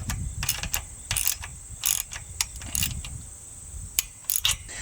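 Carriage bolt being tightened into wood with a wrench, a series of close irregular metallic ratcheting clicks and scrapes over a low rumbling hum, with no talk.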